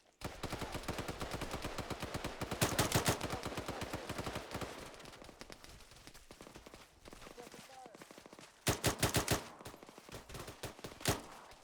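Rifle fire in Arma 3 patrol training, rapid sustained bursts of close, loud shots in long rhythmic strings with a few heavier volleys, voices talking in between.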